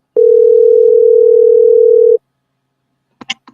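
Telephone dial tone while placing a call, a loud steady tone lasting about two seconds that then cuts off, followed by a few faint clicks.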